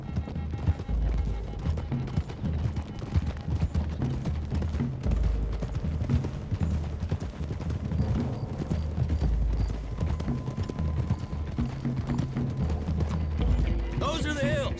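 Several horses trot along a road in Red Dead Redemption 2, a steady muffled clip-clop of hooves throughout, with someone talking over it.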